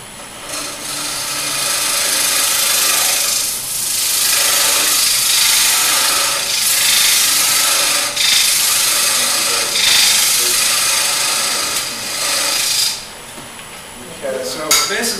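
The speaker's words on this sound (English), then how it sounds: "use the gouge and so now I'm going to scrape this way." A hand gouge scrapes steadily across wood in a woodturning demonstration, a continuous loud, close rasping with slight strokes that stops near the end, leaving brief clatter.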